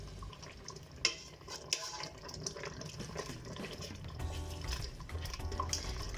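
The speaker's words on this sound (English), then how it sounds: "Add the cilantro. And simmer for 1 to 2 minutes." Cilantro simmering in a large non-stick skillet while making Moroccan chicken pastilla, giving a soft steady bubbling and sizzling hiss with occasional small clicks and stirring sounds, close and quiet.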